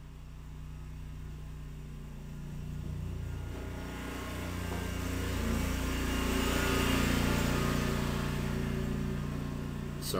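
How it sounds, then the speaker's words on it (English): A steady motor drones outside with low harmonic hum, rising a little louder midway and holding, like a mower running at moderate distance. "Sorry for the lawnmower."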